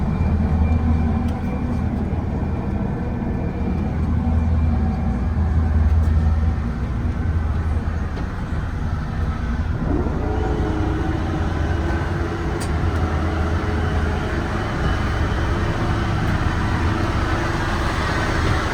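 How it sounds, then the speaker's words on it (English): A 2006 Prevost H3-45 coach bus drives past with a loud, steady low engine rumble and road noise, the tone shifting partway through as it goes by. "that's the coach coming back through"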